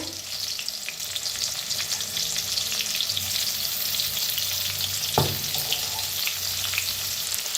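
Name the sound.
frying garlic, green chilli and peanut thecha in a pan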